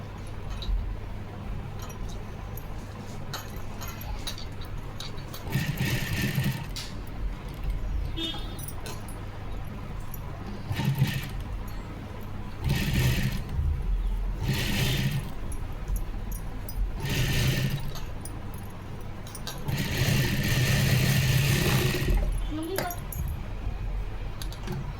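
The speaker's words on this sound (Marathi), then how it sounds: "आता बघा डबल परत शिलाई करून घ्यायची, जेणेकरून मागची फिनिशिंगसुद्धा छान येईल बरं का" A sewing machine runs in several short bursts, double-stitching the back neck of a blouse, its mechanical whirr rising and stopping against a steady low hum in the room.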